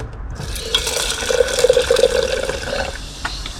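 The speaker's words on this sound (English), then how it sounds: "it's time to put some hydrochloric acid in." Hydrochloric acid poured over metal electrical contacts and crystals in a container, a close, continuous liquid pour with gurgling and faint bubbling throughout, no talk.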